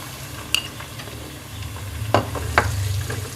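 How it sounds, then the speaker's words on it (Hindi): Peeled, chopped tomatoes frying in a pan with garlic and ginger for a cabbage sabzi give a low steady sizzle, with a few sharp clinks of a utensil scraping and stirring, close by. "अब थोड़ा सा इसको भून लेंगे।"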